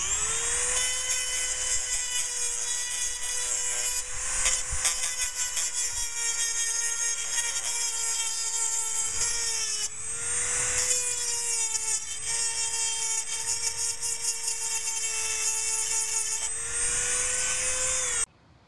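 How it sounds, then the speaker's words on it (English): A Dremel rotary tool grinds paint off a steel pipe with a steady high-pitched whine and gritty scraping, briefly dipping twice as it is pressed and shifted along the metal. "I'm going to go ahead and take my Dremel tool here, and I'm going to go ahead and run it and get the paint off of this pipe"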